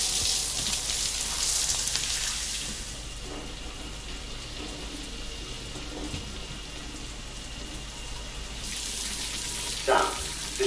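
Shower water runs steadily in the video game Death Stranding, a broad hiss that swells at the start and again near the end over faint background tones.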